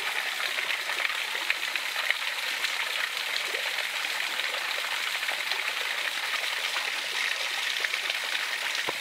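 A waterfall roars steadily at close range, a dense, even hiss of rushing water that fills the whole stretch without pauses or voices.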